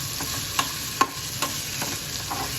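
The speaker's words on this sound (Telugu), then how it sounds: "ఇక్కడ చిల్లీ ఫ్రై అవుతుంది" Chilli fry sizzling in a pan at home: a soft, continuous frying hiss with a few light clinks of a utensil against the pan.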